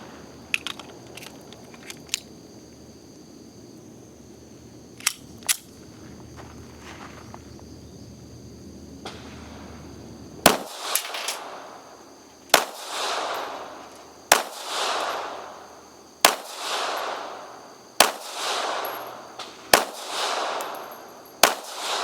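Pistol shots from an SCCY CPX-3 chambered in .380 auto ring out at a steady pace, about seven loud sharp reports each trailed by a short echo, after a stretch of faint distant pops and quieter background.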